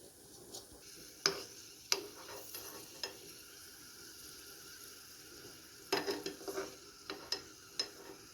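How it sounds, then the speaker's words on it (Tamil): Raisins frying in a pan while making Kerala jackfruit payasam, a soft low sizzle with sharp clinks of a spoon stirring against the pan, clustered taps near the start and again toward the end. "இப்போ திராட்சை போட்டு எடுத்துக்கலாம்."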